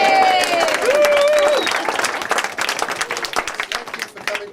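Wedding reception guests burst into loud applause and cheering, dense clapping filling the room while a voice rings out at the start, then the applause gradually thins and fades out.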